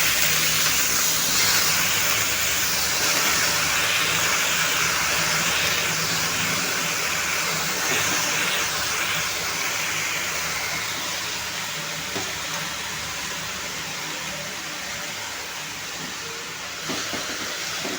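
Fresh spinach tossed into hot masala for Puneri dal palak sizzles in the pan, a steady, fairly loud hiss that continues throughout and eases slightly toward the end, with no voices.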